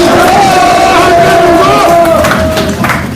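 A large crowd at a Korean community patriotic rally in Houston roars with sustained cheering and shouting, very loud and continuous, with scattered clapping mixed under the massed voices.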